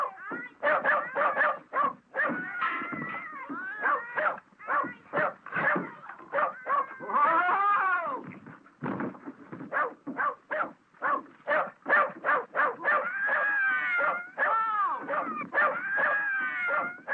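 A dog whimpers and howls in a western film scene, with drawn-out wavering cries that rise and fall amid steady talking across the whole stretch.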